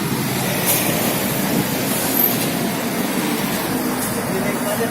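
A Hong Kong 'teng teng' double-decker tram rolls along its rails on a trip back toward Kowloon, giving a steady broadband rumble and rattle that runs evenly throughout without clear talk.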